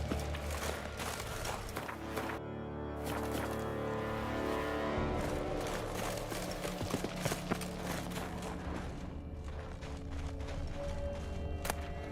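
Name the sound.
horse hooves clip-clopping in video game Genshin Impact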